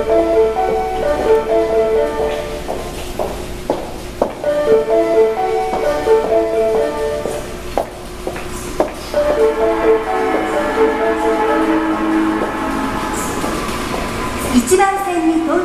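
An Osaka Municipal Subway Sennichimae Line train of the 25 series pulls into platform 1 at an underground station. The rumble and clatter of the approaching cars rises over repeated platform chimes and recorded Japanese station announcements.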